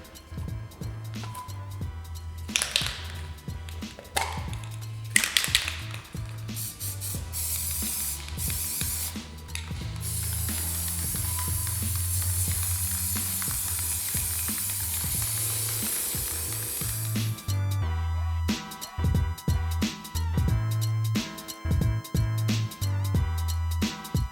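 Aerosol rattle can spray painting, with clicking handling noises and short hisses early on, then a long continuous spray hiss lasting several seconds, followed by more clatter and brief bursts.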